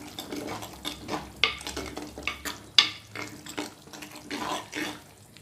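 Mushroom gravy with fennel powder being stirred in a clay pot, a series of wet scraping strokes and soft splashy stirs in an uneven rhythm, close and moderately loud.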